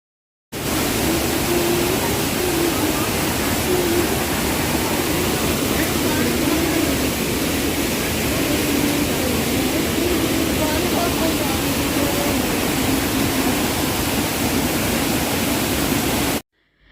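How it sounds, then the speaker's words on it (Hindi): A small waterfall in the hills of Mussoorie rushes in a steady, dense roar that holds for the whole stretch, close and loud, with no voices audible over the water. "तो अभी हम लोग यहाँ छोटे वाले झरने में आ गए हैं।"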